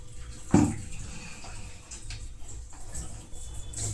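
Water splashes into a bowl of rice flour with one sharp pour near the start, then softer trickling and stirring sounds follow.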